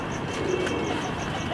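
A pigeon in a Lahore loft gives a soft, low coo, faint and brief against a steady background hiss.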